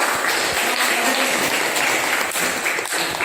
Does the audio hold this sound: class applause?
yes